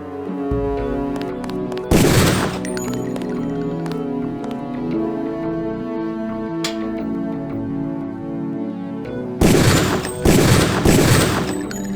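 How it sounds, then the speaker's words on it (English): Pistol shots ring out at targets on a shooting range in Deus Ex: Game of the Year Edition, with a loud crack near the start and a cluster of three sharp shots near the end over a steady musical background. "Release the first target and take a few shots with one of the pistols until it is destroyed."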